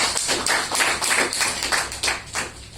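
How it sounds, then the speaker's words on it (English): An audience at a formal session claps in a brief round of applause, a quick patter of many hands at moderate volume. "Shall we have a big round of applause for that?"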